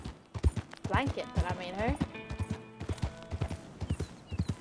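Horse hooves clip-clop at a steady walking rhythm in Red Dead Redemption 2, a small horse plodding along under nearly continuous talking, with a brief whinny-like tonal sound mid-clip.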